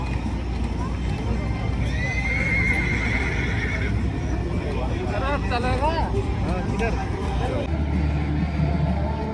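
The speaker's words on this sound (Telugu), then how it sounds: "ఆ గుర్రం కాలు చూడండి" A horse whinnies loudly at an outdoor Kuwait National Day gathering by Kuwait Towers, with hooves clopping and a crowd murmuring throughout.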